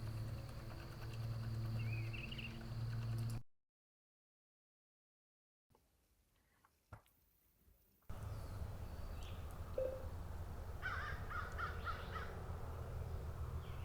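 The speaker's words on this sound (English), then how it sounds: "that caw, caw, caw, caw, caw, caw, American crow." American crow cawing outdoors among backyard birds, a run of harsh repeated caws at moderate distance over steady background noise, broken by a stretch of near silence midway.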